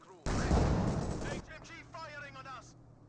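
A mortar shell blasts in Company of Heroes 2, a loud close burst with a rumbling decay lasting about a second, followed by quieter battlefield noise and a voice talking.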